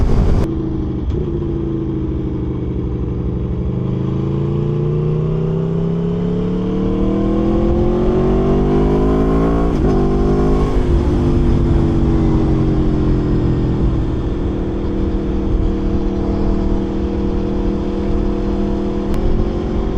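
A 2021 Aprilia Tuono V4 Factory motorcycle engine drones loudly and continuously, its pitch sliding up and down as revs rise and ease over the twenty seconds.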